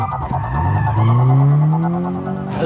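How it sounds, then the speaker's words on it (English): A modified Subaru BRZ rally car with a boosted engine, driving in a Dakar 2025 setting, its engine note rising steadily as it accelerates close by, with some tire noise and a rough mechanical edge. "Today I'm driving this Subaru BRZ."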